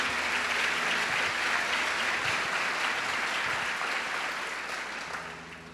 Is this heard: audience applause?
yes